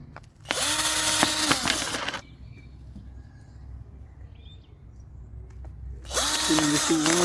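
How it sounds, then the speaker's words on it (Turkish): Two short bursts of a high-pitched electric drill whirring, up close, separated by a few seconds of quiet with faint rustling. "normal matkapla delmeyi tercih ediyorum."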